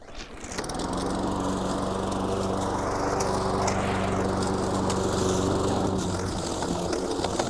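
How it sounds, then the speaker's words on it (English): A lawn mower starts and runs at a steady, loud drone close by, continuing without pause for several seconds. "now we're ready for the mower"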